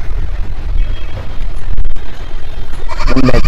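Kota goat at a goat sale hub in Mumbai, bleating loudly and close by near the end, over a noisy background with low rumble.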